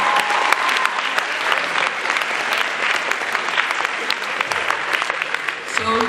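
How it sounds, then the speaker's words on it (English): A seated audience of about a hundred at a speaker event gives loud, continuous applause, a dense close patter of many hands that holds steady for several seconds before starting to thin at the end. "So give yourself a clap."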